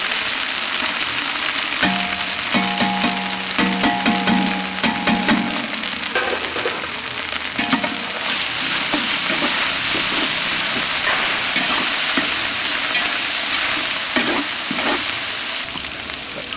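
Garlic frying in a pan for mutton biryani gives a steady close sizzle and hiss throughout, with clinks of stirring and a faint hum underneath.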